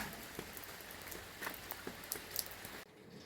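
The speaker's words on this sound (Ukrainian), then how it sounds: "на дворі дощ, прохолодно, осінь" Autumn rain falls outside, a soft, steady patter of drops with scattered louder splashes on nearby surfaces, quiet and continuous until it abruptly cuts off near the end.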